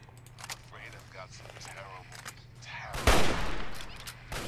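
Hunting rifle gunfire in the video game Fallout 3 is heard as one sharp, loud shot with a rolling tail near the end, following a stretch of talking over faint game ambience.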